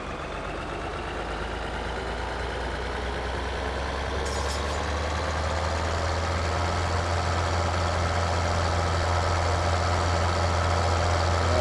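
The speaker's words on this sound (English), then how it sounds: "Tractors sound better too." Tractor engine in Farming Simulator 2013, a steady, low, rumbling idle that grows slightly louder over time, heard alone without talk.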